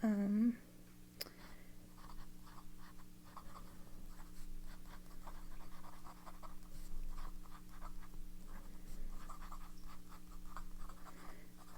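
A broad-nib fountain pen scratching across paper, soft, close strokes in short bursts under a low, steady hum, after a brief spoken phrase at the start.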